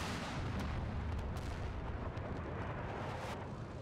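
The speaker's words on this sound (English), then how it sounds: "that's another missile from our tow launcher here" A TOW missile launching in the Combat Mission: Cold War video game, heard as a sustained, heavy rushing roar with rumbling low end and a few sharper cracks, loud and steady throughout with no talk.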